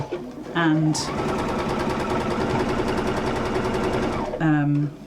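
A sewing machine runs steadily for about four seconds, stitching a zigzag seam with the needle swinging across, its rapid mechanical chatter loud and close. A voice speaks briefly before and after the run.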